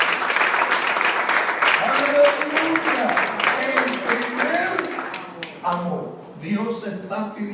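A church congregation claps during a sermon, broadband clapping running steadily throughout under a voice that keeps speaking and shouting over it.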